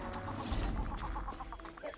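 A scavenger, the bone chicken creature of the Gothic video game, clucks in quick repeated bursts amid busy game ambience and rumble, close and fairly loud with no talk.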